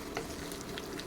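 Sliced onions with ginger sizzle and fry in hot oil in a pan, a continuous crackling hiss with light stirring, close and without talk.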